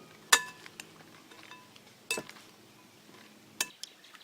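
Ribs being tossed with chopped garlic, green beans and sliced jalapenos in a bowl: three sharp clinks of utensil against the bowl spaced over a few seconds, with faint quiet rustling between, no talking.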